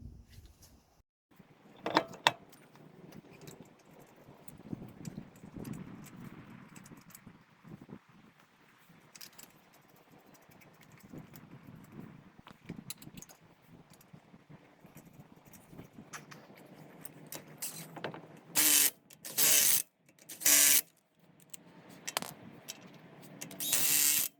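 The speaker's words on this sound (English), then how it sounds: "Now I'm gonna put the wheel back on." Clanks, ratcheting and metallic knocks come from refitting a front wheel on a Toyota Yaris Vitz after a coil spring change, irregular and close. Several louder bursts of tool noise fall near the end.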